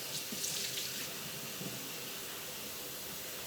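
A lemon rinsed under a running kitchen tap, a steady close splash and hiss of water that is heavier in the first second and then settles into an even flow, with no talking.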